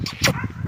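A Gultair-breed dog barks indoors, a single short, close yelp that is over almost at once.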